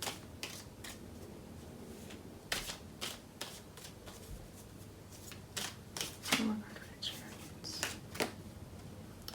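A deck of tarot cards is shuffled and cut with crisp riffles, flicks and slaps, up close and fairly quiet, in irregular bursts, and a card is drawn.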